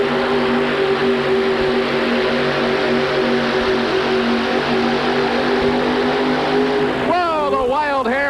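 Monster truck engine at a 1988 USHRA truck pull in St. Louis, holding a loud steady drone with stable harmonics, then revving up and down in rising and falling surges near the end while an announcer talks over it.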